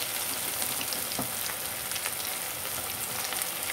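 A batch of paneer pieces deep fries in oil, a constant dense bubbling sizzle with scattered pops, fairly quiet and steady, with no voices.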